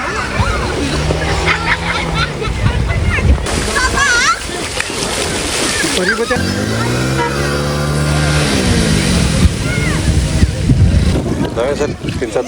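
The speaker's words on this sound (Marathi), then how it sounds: "पाणी उडवू नका" Water splashing and sloshing in floodwater, with children's voices chattering and calling throughout, lively and close, with a steady background rumble.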